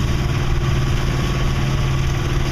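A sailboat's inboard engine runs steadily on Lake Michigan while the boat motors into the wind and 1–2 foot waves. It gives a loud, continuous low throb with a constant idling drone and no speech.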